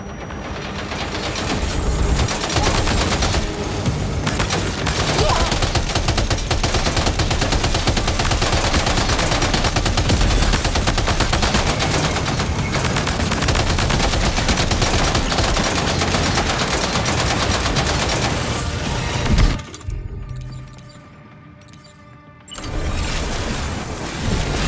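Sustained heavy gunfire in the DS2 shooter game, dense rapid automatic bursts loud and continuous for about twenty seconds, then a brief lull before shooting resumes.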